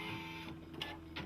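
A Brother PE-series home embroidery machine stitching a custom design gives a brief, faint mechanical whir with a couple of quick rattling stitch pulses.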